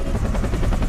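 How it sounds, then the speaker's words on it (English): Rapid, continuous thumping of the two-bladed rotor of a Bell UH-1 Iroquois Huey helicopter in Flight Simulator X, loud and close, a steady pulsing chop with heavy low-end rumble and no talk. "When you hear that noise, that thump, you think Huey helicopters"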